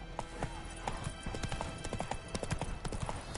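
A horse gallops in The Witcher, with quick, rhythmic hoof clip-clops that stay close and fairly loud throughout, without talk.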